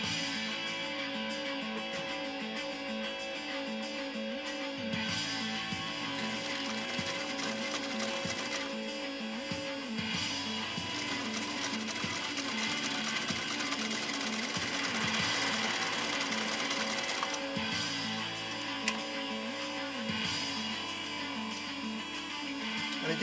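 A 1923 Singer 66-1 sewing machine stitches in a workshop with reduced presser foot pressure, giving a steady, rhythmic mechanical chatter that runs close and continuous throughout with no talking.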